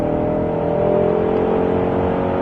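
A Ford Mustang Shelby GT500 engine roars steadily at high revs while accelerating hard through a corner on a track, loud and close, with a continuous whirring drone throughout.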